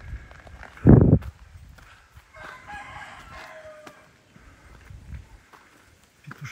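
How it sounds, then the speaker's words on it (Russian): Roosters crow on a jungle trail on Koh Phangan, Thailand, a fairly near call rising over quiet forest ambience with a loud thump and some footsteps. "Петушара орут."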